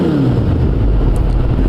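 A Kawasaki ZX-10R motorcycle fitted with an Akrapovic exhaust revs nearby, a loud, steady, rumbling engine drone that holds without pause.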